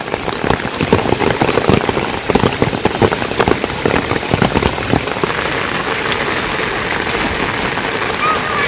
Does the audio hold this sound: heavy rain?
yes